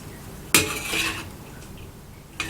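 Rice being mixed with egg in a pan for shrimp fried rice gives a sharp utensil clatter against the pan, then a short burst of scraping and stirring, with another light knock at the end.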